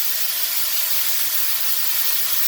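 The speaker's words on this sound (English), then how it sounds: "now the pot is really hot. So we're gonna add some teriyaki" Teriyaki sauce hits a very hot pot while sautéing string beans, giving a loud, steady, broadband sizzle and hiss that holds unbroken throughout with no voice over it.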